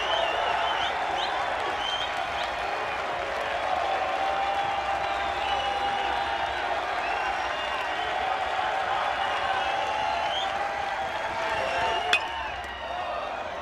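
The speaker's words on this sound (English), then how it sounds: "Crowd rising to their feet here." A baseball crowd at a Tennessee–LSU game rises and applauds, a steady wash of distant clapping and cheering that holds throughout, with a commentator talking over it.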